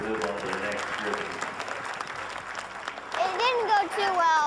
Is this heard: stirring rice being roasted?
no